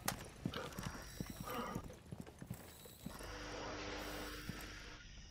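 Horses in a video game, their hooves clip-clopping in soft, uneven steps with a brief whinny, heard quietly at a distance with faint game sounds around them.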